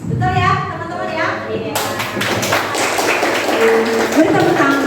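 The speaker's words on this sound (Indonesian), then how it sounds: "Beri tepuk tangan buat Ibu" A classroom of students applauds their chemistry teacher after a worked problem, a dense burst of clapping that starts abruptly partway through and carries on steadily to the end, with voices over it and a talking voice at the start.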